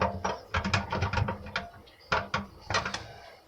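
A garbage disposal is twisted counterclockwise off its sink mount, giving close metallic ratcheting clicks and scrapes in two bursts of quick grinding turns, with no talking.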